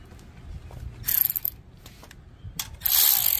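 A ratchet tightens an 11 millimeter bolt on a Briggs & Stratton 5HP engine under restoration, giving two close bursts of rapid clicking pawl sound separated by quiet handling noise.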